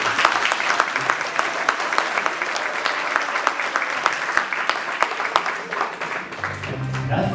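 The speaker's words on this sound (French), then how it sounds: "Je vous demande d'applaudir Pascal s'il vous plaît." Steady, dense applause from a concert audience at a tribute show, a close crowd clapping continuously for several seconds before it thins out at the end.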